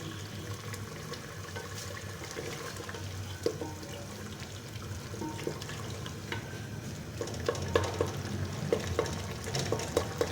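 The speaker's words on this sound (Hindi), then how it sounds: "तकरीबन इसको 4 से 5 मिनट अच्छी तरह से हम इसको भून लेंगे ताकि ये अच्छी तरह से भून जाए।" Kachnar masala for a kachnar gosht dish fries steadily in a pan over normal heat, a continuous close sizzle with occasional stirring scrapes and no speech.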